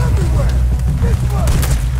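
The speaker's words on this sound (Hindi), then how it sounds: "हर तरफ से गोलियां चल रही है" Gunfire in Red Dead Redemption 2 during a police shootout, a loud continuous barrage of booming shots over heavy low rumble, with a voice talking over it.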